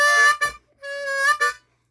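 A blues harmonica plays two bright, reedy notes close up, each bending and wavering in a deep, exaggerated wah-like swell, with a short gap between them and silence afterward.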